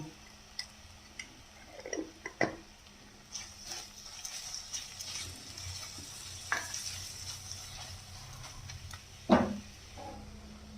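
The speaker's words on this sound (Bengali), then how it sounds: "ভালো করে এটাকে আবার ফের মিশিয়ে নেব" Spiced garlic prawn rice is stirred in a pan, with a soft sizzle of frying underneath and scattered scraping, tapping spatula strokes at close range.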